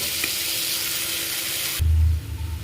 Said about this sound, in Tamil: தக்காளி வணங்கத்துக்காக கல் உப்பு ஆட் பண்ணியாச்சு